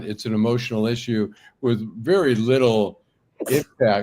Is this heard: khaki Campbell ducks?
no